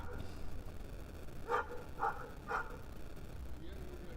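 A guide dog barks three times at an even pace, moderately close over steady background noise and faint voices, at a bowls championship for disabled players.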